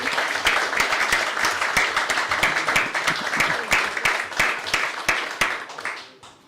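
Sustained applause from a crowd of men and women at a solemn session in a Brazilian city council honouring an evangelical church, dense steady clapping throughout before fading away at the end.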